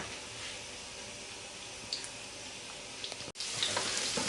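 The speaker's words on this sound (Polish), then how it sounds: "Smażymy z jednej i z drugiej strony." Soft, continuous sizzling of zucchini and oat fritters frying in a pan, with a brief clatter near the end before the frying grows slightly louder.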